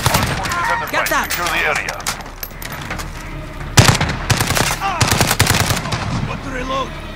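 Rapid automatic gunfire crackles in bursts during a hardpoint multiplayer match of Call of Duty: Modern Warfare, with a loud, sharp volley midway, while voices call out over the shooting.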